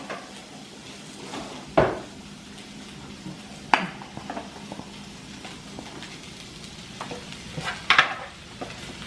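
Onions cooking in a hot pan, a low background sizzle punctuated by three loud scraping clatters of a big spoon against the pan, close and unaccompanied by talk.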